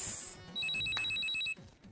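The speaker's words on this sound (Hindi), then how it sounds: "ये खूबसूरत फोन क्यों नहीं उठा रही?" A telephone rings quietly in a domestic scene from a Pakistani TV drama, with a rapid repeating electronic trill in short bursts that stops abruptly and no voices.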